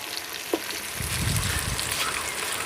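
Onions frying in a pan for biryani, a close, steady hiss and sizzle with a few soft stirring scrapes, continuous throughout with no voices.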